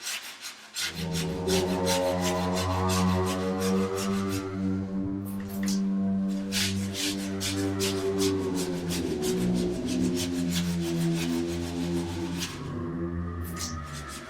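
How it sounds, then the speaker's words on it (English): Cloth wiping mildew off a bathroom ceiling with mildewcide: steady rubbing and scraping strokes that repeat in a loose rhythm, close and fairly loud over a sustained tonal drone. "Using some mildewcide, I'm just wiping off the mildew."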